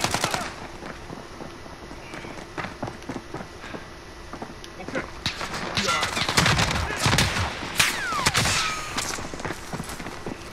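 Gunfire in a Call of Duty Modern Warfare match, sharp irregular shots and bursts cracking near and far, growing busier toward the end, with players talking over the action.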